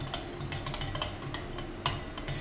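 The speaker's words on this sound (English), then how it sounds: "So I'll put two big spoons in and give it a stir." A spoon stirring sugar into water in a glass, a quick run of light metallic clinks and taps against the glass, close and fairly faint, with no talk.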